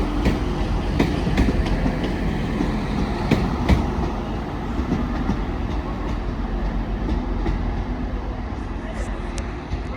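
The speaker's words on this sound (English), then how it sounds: "the slightly delayed 1411 Transpennine Express service from Cleethorpes to Stockport, 185 135 leading" A TransPennine Express Class 185 diesel train rumbles past at Sheffield station, a loud, steady roar with rhythmic clicks of wheels over rail joints, and a voice talks faintly underneath.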